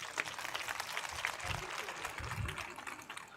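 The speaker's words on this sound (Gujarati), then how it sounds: "ખાલી બૂથ પ્રમુખો તાળી પાડો જો ખબર પડી જાય." Booth presidents clap together at a party booth-president convention in Navsari district. The crowd's clapping is dense and continuous at mid-distance, with a few low thumps and murmurs mixed in.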